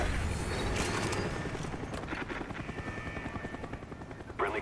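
Cobra attack helicopter in a video game arriving with a loud, steady rotor thump that pulses rhythmically throughout, mixed with mechanical rattles and a brief burst at the end.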